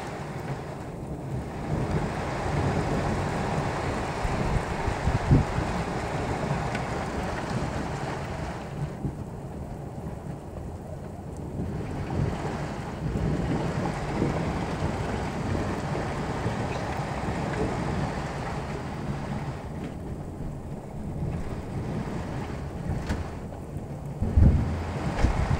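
A heavy thunderstorm rages in Grootebroek, with gusting wind buffeting the microphone, steady rain and low rumbling throughout, the roar swelling and easing in waves over nearly half a minute.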